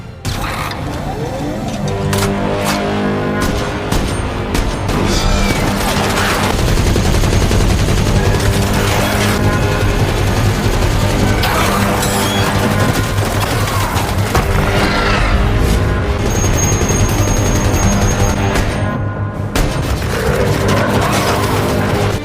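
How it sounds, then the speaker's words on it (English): Gunfire erupts in an action scene from The Gorge, with dense bursts of automatic fire, booming shots and mechanical clatter over a rumbling, loud soundtrack that continues throughout. "Without hesitation, he opened fire to defend himself."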